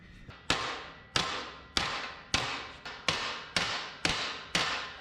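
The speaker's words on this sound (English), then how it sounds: "Hammer in this side." Heavy hammer blows strike a steel axle housing on an LS-swapped Chevy S-10 pickup, nine sharp metallic hits in a steady rhythm roughly every half second, loud and close with ringing decay.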